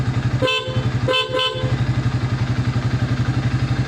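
A Yamaha Byson motorcycle horn beeps three short times, one then two quickly, over a close, steadily idling engine.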